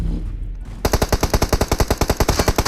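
Rapid automatic gunfire in the battle royale game PUBG Mobile, a fast regular burst of about twenty loud close shots after a brief stretch of low background noise.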